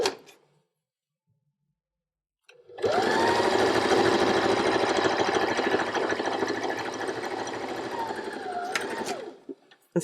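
A sewing machine stitches the bottom edge of a beeswax snack bag, starting after a short silence and running in a steady loud whirring hum for several seconds before stopping near the end.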